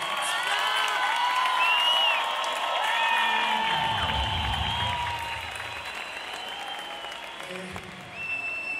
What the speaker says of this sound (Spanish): a todos los grupos colombianos, un aplauso desde aquí